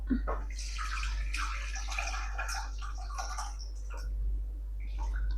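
Thick chicken curry is poured from a vessel into a heated kadai, giving a soft continuous liquid sloshing and splattering over a low steady hum, with faint murmuring in the background.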